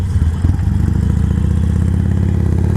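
A Harley-Davidson Iron 883 Sportster V-twin idles close by with a loud, rapid, lopey pulsing rumble, a brief blip near the start, then steady chugging throughout with no talk.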